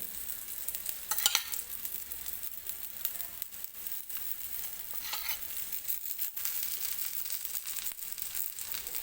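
Rava appe batter frying in a little oil in an appe pan, a steady soft sizzle and crackle running throughout, with a couple of brief brighter spatters over the quiet, continuous hiss.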